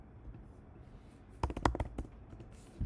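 A computer keyboard is typed on in a quick burst of close, crisp key clicks midway, with a faint tap afterward and a quiet room otherwise.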